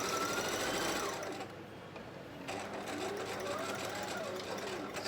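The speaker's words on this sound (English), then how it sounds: "So I'm just stitching around the top, and it'll hold all that in place where it should be." Sewing machine stitching around the top of a handmade tote bag sewn from cushion panels, a steady close motor hum with a brief pause and restart, a person talking over it.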